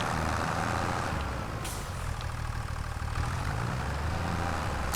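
Tractor engine in Farming Simulator 25, a steady low idling rumble with a constant drone and a brief hiss partway through, running alone without talk at a moderate level.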